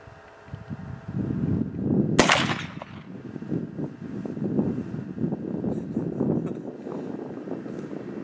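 A single sharp report from a Hawken-style plains rifle loaded with 90 grains of 2F black powder cracks out about two seconds in, outdoors, with a trailing echo and a low background hum.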